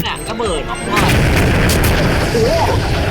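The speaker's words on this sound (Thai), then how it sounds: "เป็นระเบิด" A loud explosion in a Skibidi Toilet video game booms suddenly and rumbles on afterward, with a voice speaking Thai over it.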